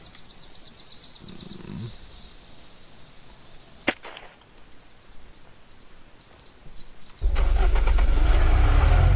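A car in the Unturned video game sits through a quiet stretch with a single sharp click, then its engine bursts into a loud, sustained roar for the final couple of seconds.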